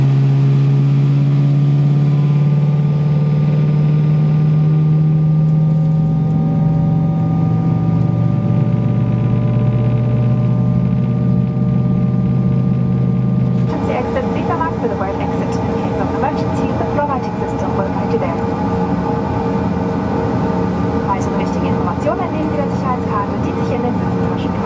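Inside the cabin of a Lufthansa CityLine CRJ900 regional jet at Paderborn, the engines start up with rising whining tones over a steady rumble that grows louder and busier partway through. Cabin voices talk over the sound.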